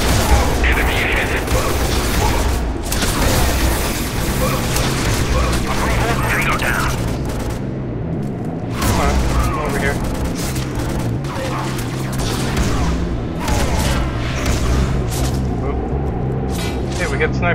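Gunfire and explosions from the co-op shooter video game Scourge Outbreak, on the Bastion level. There is continuous dense battle noise with booms, crashes and rapid shots throughout, and voices talk over it.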